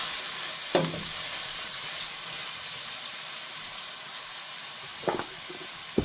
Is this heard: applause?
no